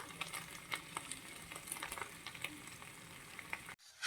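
Chicken palipalayam frying in a pan gives a steady, close crackling sizzle dotted with sharp pops and light stirring clicks, then cuts off abruptly near the end.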